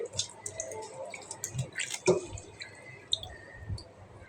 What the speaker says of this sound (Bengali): এখন ধুয়ে নিব তো তোমাদের সাথে ভিডিওটা শেয়ার করতেছি কীভাবে মাছটা আমি ধুব